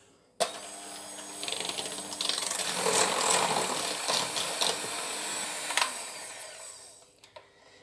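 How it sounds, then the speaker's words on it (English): An electric mixer creams butter and sugar in a bowl at low to medium speed, starting abruptly with a clunk, then running as a steady whirring drone with rattling beater clatter before winding down. "We're going to use our mixer for about 2 to 3 whole minutes on a low to medium speed and cream the butter and sugar."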